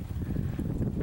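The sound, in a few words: wind blowing at a creek while fishing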